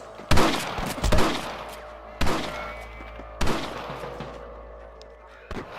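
Gunfire in the Red Dead Redemption video game: four or five loud, sharp shots with ringing tails, spaced irregularly across the span, with faint background sound between them.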